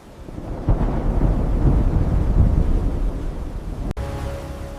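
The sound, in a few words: thunderstorm with heavy rain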